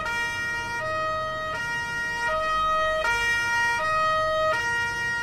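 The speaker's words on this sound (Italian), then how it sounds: "Accendiamo la sirena." Emergency vehicle siren in a Farming Simulator 19 escort convoy, a loud electronic two-tone wail alternating between pitches in a regular cycle, close and continuous with no talk over it.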